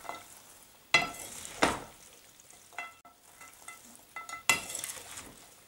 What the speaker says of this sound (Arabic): نحط الحمص، نخلط الخضرة في وسط المحمص